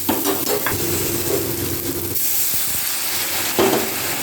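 Water goes into a hot pan of Katla fish curry, and the loud frying sizzle changes into a bubbling hiss that carries on steadily, close up, with a few stirring clinks.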